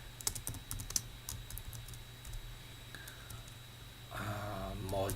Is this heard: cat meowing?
no